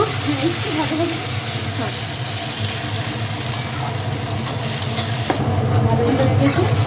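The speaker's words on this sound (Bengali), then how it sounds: "এবার এর মধ্যে টমেটো কুচিগুলো দেওয়া দিয়ে দেওয়া হচ্ছে এবার কষাতে হবে একটু ভালো করে" Chopped tomatoes sizzle and hiss in a hot pan as they are sautéed for a Bengali fish curry, with a spoon stirring and scraping steadily, close and fairly loud.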